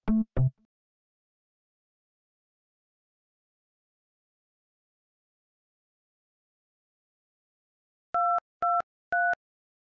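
Three short evenly spaced telephone keypad DTMF beeps dial a code into a PBX phone system, clean and close, after a long stretch of silence and a brief blip at the start.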